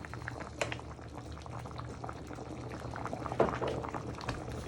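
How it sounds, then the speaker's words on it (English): Chicken and chorizo ragu simmering in a pan, a continuous soft bubbling and popping heard close up with a few slightly louder plops. "Now you can hear it starting to bubble, so we just lowered the heat."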